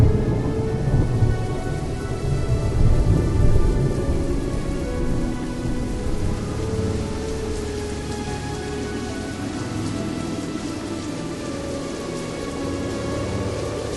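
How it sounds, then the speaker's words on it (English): A rain and wind storm with steady, loud rainfall, low rumbling thunder and gusting wind, roaring continuously throughout with no voices. "We started to hurry through the rain and the wind."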